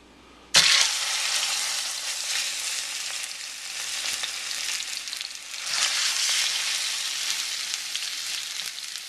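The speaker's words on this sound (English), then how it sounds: "I believe the oil's hot, so we'll go ahead and start searing this" Lamb leg steaks hit hot oil in a pan with a sudden loud sizzle that settles into continuous close frying crackle, swelling again later.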